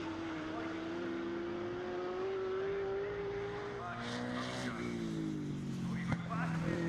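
Classic race cars, including a Ford Fiesta and a Ford Capri, racing at Knockhill circuit, with a steady engine drone shifting pitch as cars pass, under a commentator's voice.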